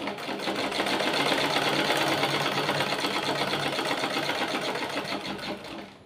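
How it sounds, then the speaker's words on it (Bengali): A sewing machine runs steadily at close range, stitching a blouse seam with a topstitch near the folded edge. The motor whirs loudly and continuously before easing off at the very end. "আমি এই 1 সুতো দূর দিয়ে একটা চাপ সেলাই দিয়ে দেব"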